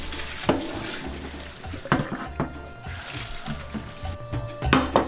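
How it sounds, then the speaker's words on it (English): Cold tap water runs into a pot for chilling cooked shrimp in a home kitchen, a steady close splashing stream broken by a few clanks of the pot. "So I'm gonna put cold water."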